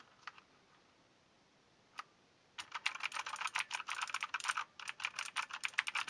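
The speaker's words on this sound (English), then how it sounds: "You can hear that metallic resonance after the click." Mechanical key clicks from a T-Dagger Bermuda T-TGK312-BL gaming keyboard: two isolated taps, then a fast, steady run of close, crisp clicks with a slight metallic ring.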